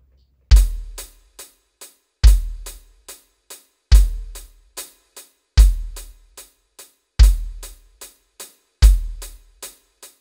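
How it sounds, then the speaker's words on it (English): Yamaha DTX452K electronic drum kit playing a steady pattern: a loud bass drum kick lands with each first hi-hat stroke, followed by lighter hi-hat ticks, repeating six times at an even tempo, close and clean with no talking. "And with the first hi-hat stroke, we should play bass drum kick like this."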